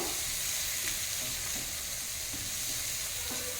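Prawns with turmeric, chilli, salt and coriander-cumin powder are stirred in a frying pan, giving a soft, even sizzle with faint scraping strokes throughout and no voices.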